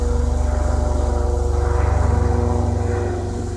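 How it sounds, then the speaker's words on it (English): Two military helicopters flying low overhead at night with no lights: a loud, close, rhythmic rotor thump and engine drone, steady and pulsing throughout, easing slightly at the end. "two helicopters coming over my house with no lights on."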